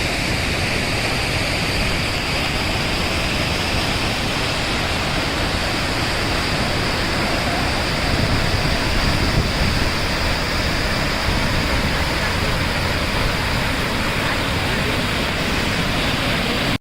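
Dudhsagar waterfall in fog, heard from its base: a steady, loud, broadband roar of falling water that fills the whole scene without pause.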